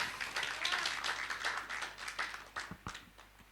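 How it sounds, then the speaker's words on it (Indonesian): A church congregation claps along during a sermon, the clapping faint and somewhat distant, settling into a few separate claps at the end. "Berikan tepuk tangan bagi Tuhan kita."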